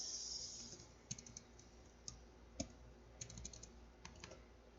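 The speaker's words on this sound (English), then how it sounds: "we're going to type here the netstat." A computer keyboard clicks as a short command is typed, scattered individual keystrokes in small bursts, close but quiet, with no talking.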